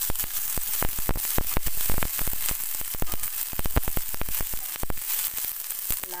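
Ginger garlic paste sizzles in hot oil with a bright, close crackle and a dense run of sharp spitting pops that carry on steadily without talk.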